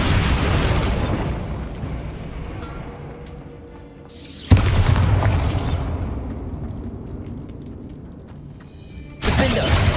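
Bombarda spell blasts in the Hogwarts Legacy video game land as three loud, booming explosions, each followed by a long rumbling decay that tapers off before the next hit.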